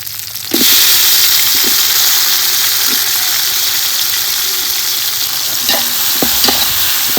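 Green chillies frying in oil in a pan for a village-style chicken biryani, a loud continuous sizzle with occasional scraping stirs of a spoon against the pan.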